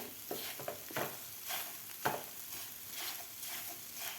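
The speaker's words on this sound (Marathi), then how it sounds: "अशा प्रकारे मी असं मोकळं मोकळं करून घेतलेलं आहे चमच्याच्या साह्याने" A spoon breaks up scrambled eggs for anda bhurji in a frying pan, scraping and stirring with soft repeated strokes over a faint steady sizzle, with no voices.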